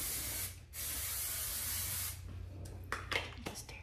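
A can of aerosol hair gel sprays in a long, loud, steady hiss lasting well over a second, followed by a few shorter bursts and soft rustling.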